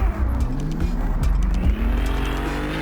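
A drift car running a freshly installed 3.4 engine at a drifting championship round at Manfeild Raceway, its rough, strained engine roaring continuously and loud close by, with tire squeal mixed into the drone.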